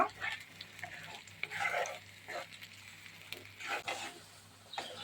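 Grated capsicum for halwa is stirred and fried in a pan, with soft intermittent sizzling and repeated scraping strokes of a spoon, fairly quiet and close.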